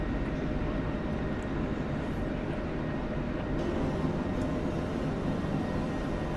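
A C-130 military transport aircraft drones steadily and broadly for several seconds, its engine noise continuous and even with no voices over it.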